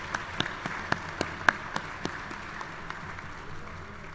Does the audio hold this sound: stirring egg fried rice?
no